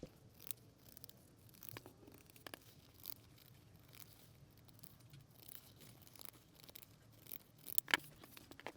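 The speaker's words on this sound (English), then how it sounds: "just snip down the seam allowance to halfway" Scissors make small, quiet snips into a quilting-cotton seam allowance on a sewn tote bag, scattered light cuts and fabric rustles close by, with a crisper snip near the end.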